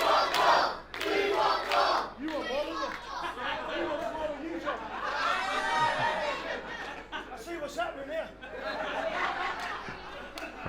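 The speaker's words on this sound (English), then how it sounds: "this crowd here in Salisbury are red hot for Joel Redman" A live wrestling crowd in Salisbury at an independent show roars, shouts and chatters with bursts of laughter, a dense, loud wash of voices that swells and dips throughout.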